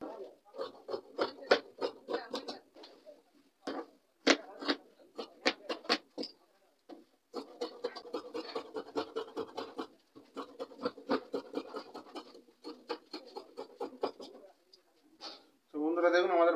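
Scissors snipping through cloth in a straight square cut for a sunnat shirt, a close, steady run of crisp scratchy bursts with short pauses and brief talk near the end.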